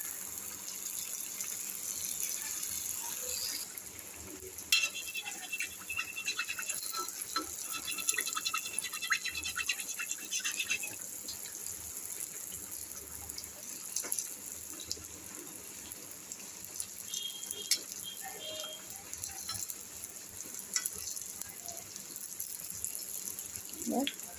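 Flour phuchka frying five or six at a time in hot oil, a continuous faint hiss and crackle of bubbling oil throughout, with occasional louder spatters.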